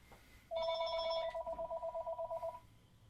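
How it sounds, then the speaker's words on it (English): A telephone rings with an electronic tone, one long note followed by a rapid pulsing trill of about a dozen beats, fairly close and alone in a quiet room. "as the phone rings"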